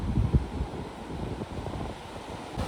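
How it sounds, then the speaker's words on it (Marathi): Wind gusts buffet the microphone on a seashore while low sea waves wash in at a moderate distance, giving a continuous rough rumble with a few stronger bursts near the start. "आज लाटा पण जरा येतात कारण की वारा पण आहेत"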